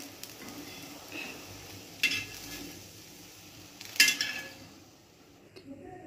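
A green gram (pasipayaru) dosa cooks on a pan over a low flame, giving a faint, steady sizzle, broken by two sharp spatula clacks as it is turned.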